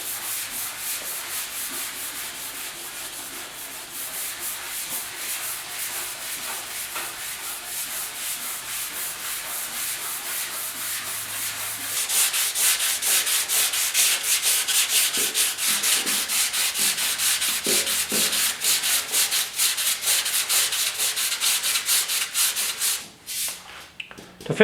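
Steady, continuous scratchy rubbing of fine-grit sandpaper worked by hand over paint on 1956 Ford pickup fenders, growing slightly louder and brisker partway through, close up with no voices.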